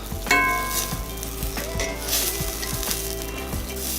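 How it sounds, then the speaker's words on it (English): Tomatoes seasoned with salt and pepper sizzle steadily on a hot skillet while being rolled around, with a constant frying hiss broken by soft, repeated knocks of the pan and utensil. "we're just going to kind of roll them around on the skillet"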